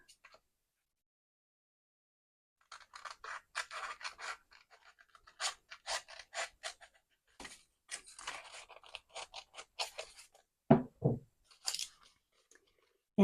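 Scissors cut a paper envelope at the crease, a series of short crisp snips and papery rustles in a quiet room, sporadic and close, ending with a few louder handling thumps.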